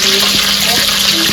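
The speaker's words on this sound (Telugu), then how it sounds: "కొంచెം నెయ్యి కూడా వేసేద్దాం." Ghee hits a hot pot for chicken biryani and sizzles loudly and continuously, close up, with a faint stirring scrape under the crackle.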